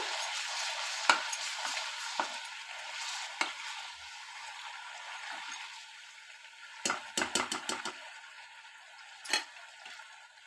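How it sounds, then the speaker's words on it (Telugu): Chicken pieces frying in oil with mint and curry leaves for chicken pickle, a soft steady sizzle broken by sharp scrapes and taps of a spatula on the pan, close and fairly quiet. "ఇది ఎంత బాగా ఫ్రై అయితే మనకు చికెన్ పచ్చడి అంత టేస్టీగా ఉంటుంది"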